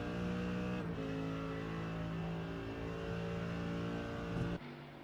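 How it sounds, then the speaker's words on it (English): A Mercedes racing car in the iRacing sim at Spa, engine droning steadily at high revs down a straight, moderately loud, then cutting off abruptly near the end. "So at the straight line speed of that Mercedes, just Pendlebury cannot live with it. Breezing past him on the straight there."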